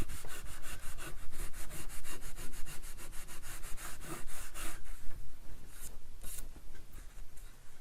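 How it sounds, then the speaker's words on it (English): Partially dry Fabri-Tac glue being rubbed off a surface, giving a steady, close scratchy rubbing with rapid repeated strokes that continue throughout, no voices. "If you can get it dry, Fabri-Tac will bead up and you can rub it right off."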